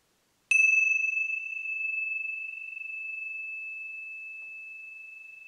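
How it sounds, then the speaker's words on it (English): A crisp chime struck once in an anechoic chamber gives a sharp, bright attack followed by a pure, steady ringing tone that fades very slowly over several seconds, close and alone. "a really beautiful crisp chime"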